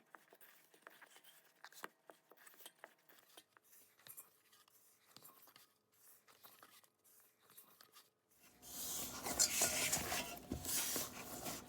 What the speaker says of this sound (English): I like to stir it until it becomes kind of like a loose ball